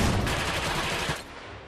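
Shotgun fire in the video game Iron Harvest: dense, loud overlapping blasts forming a continuous roar of gunfire that drops off slightly near the end.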